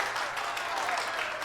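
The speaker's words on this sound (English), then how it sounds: "Hooray! Round of applause." Continuous clapping and cheering from a crowd in the video game Voice of Cards: The Beasts of Burden, steady and fairly loud for over a second, with no distinct voices.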